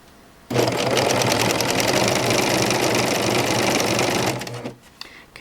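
A serger sews a pillow with a loud, steady whir that starts abruptly and runs for about four seconds before stopping, followed by light handling noise.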